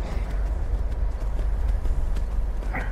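Horse hooves galloping in the Skyrim video game on PS4, a steady rapid clip-clop rhythm with deep thudding low end throughout, loud and close.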